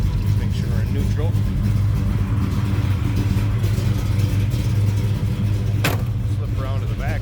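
A 1964 Plymouth Savoy engine runs at a steady idle in neutral, a loud close low rumble with a brief sharp click partway through.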